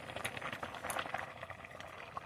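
Taro leaves simmering in a pot of boiling water on a home stove, a steady soft bubbling and popping patter, faint and close.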